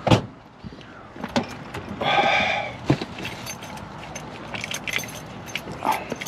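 A bunch of keys jangles and clinks close by in a few quick bursts of metallic rattling, mixed with car-door and handling noises in a vehicle.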